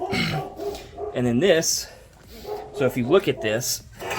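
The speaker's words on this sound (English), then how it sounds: "Apologize for the dogs, they think somebody's here." Pet dogs indoors in a home garage workspace barking and yipping, several sharp barks and whines mixed in under someone talking nearby.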